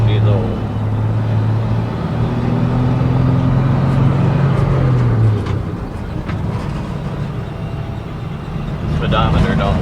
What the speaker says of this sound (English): It's a pretty old grain truck.